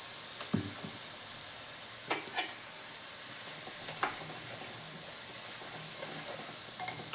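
Chili powder, turmeric and coriander powder fry in hot oil for a drumstick curry, a soft, steady sizzling hiss with a few faint clicks of stirring, close and quiet.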